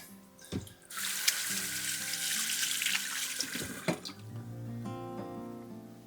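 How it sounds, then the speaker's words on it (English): Hands washed under a running kitchen tap, the water gushing steadily for several seconds with splashy bursts as the hands move, over faint background music. "I'll just wash my hands."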